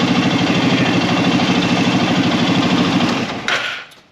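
Arctic Cat 650 H1 engine running at a steady, rough idle with a low throbbing pulse, loud and close, then cutting off abruptly near the end with a brief mechanical clunk.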